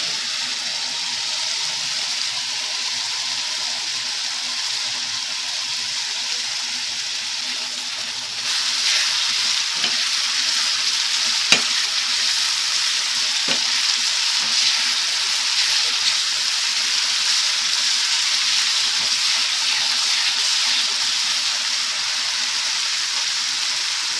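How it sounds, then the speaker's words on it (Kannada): Ground chilli paste frying in a pan with ginger, a continuous loud hiss and sizzle that swells partway through, with a few sharp clicks of stirring. "ಮಿಕ್ಸರ್ ಮಾಡಿದ ಚಿಲ್ಲಿ ಹಾಕೊಳ್ತಾ ಇದ್ದೀನಿ,"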